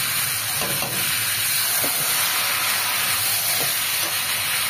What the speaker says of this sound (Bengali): আমগুলো দিয়ে একটু নাড়তে হবে